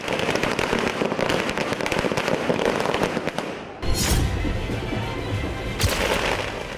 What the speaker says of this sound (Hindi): कांग्रेस कार्यकर्ताओं ने जमकर आतिशबाजी की